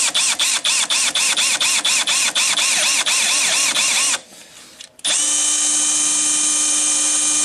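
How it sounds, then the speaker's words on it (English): Power drill boring through broken screws during a rock light install on an Arctic Cat/Textron Alterra 500 side-by-side: a rapid series of loud, whining pulses, a brief pause, then one steady high-pitched run, close up. "Are you drilling through the screws you broke?"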